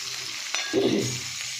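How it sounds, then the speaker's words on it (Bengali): Onions frying in oil left over from frying pumpkin, a steady close sizzle with a brief louder burst of crackle in the middle, no voices. "এখানে আমি পেঁয়াজ ভাজা বসিয়ে দিয়েছি"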